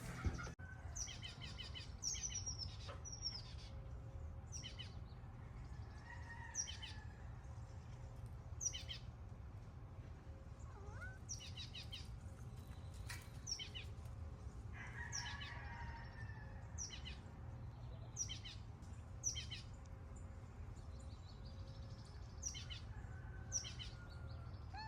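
Birds chirp and tweet outdoors at a home with chickens, in scattered faint calls over a steady low background hum, with what may be a distant rooster crowing.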